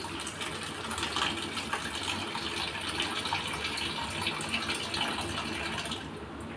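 Tap water runs into a container being filled for ice water, a steady, fairly quiet gush of splashing flow that continues evenly before easing near the end.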